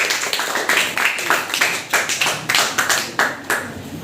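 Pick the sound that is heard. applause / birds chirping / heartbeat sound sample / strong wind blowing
applause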